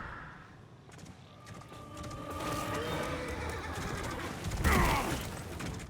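A horse whinnies in the Lords of the Fallen video game, a drawn-out neigh rising then a sharp cry near the end, set against rumbling battle ambience and clattering.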